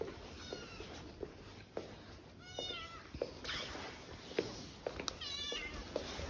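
A pet cat meows repeatedly at feeding time indoors, several clear rising calls spaced through the moment, fairly close, with low background noise and no talk.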